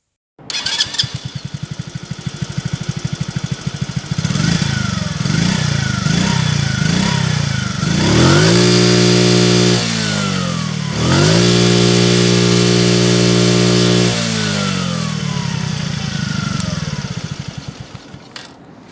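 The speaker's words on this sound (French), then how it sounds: "je vais vous faire écouter le son de la moto" A small 50cc Skyteam classic motorcycle engine starts and idles with a buzzy putter, then revs up and down several times in rising and falling whines, loud and close.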